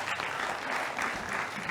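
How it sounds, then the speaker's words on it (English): Steady audience applause for a presenter at a live business conference session, a dense, even wash of clapping filling the short stretch without pause. "Could we have another round of applause for Prashant Garg?"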